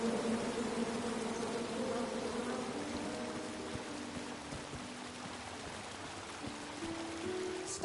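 Bees buzz in the King's Quest video game, a steady, dense drone that holds for the whole stretch with a soft hiss underneath and no talking.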